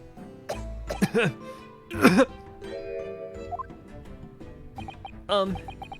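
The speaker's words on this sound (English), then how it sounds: "Are you alright? You seem to be coughing up some," A voice actor playing a head-waiter witness in Great Ace Attorney Chronicles lets out several rough, exaggerated coughs in separate bursts, with vocal sounds in between.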